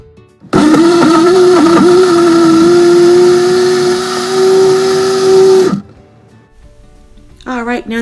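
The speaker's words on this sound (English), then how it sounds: "Now it's time to put the top on this blender and let's get blending." Kitchen blender running on a fruit popsicle mixture, a loud steady whirring motor hum that starts abruptly, holds for about five seconds, then cuts off before a voice speaks.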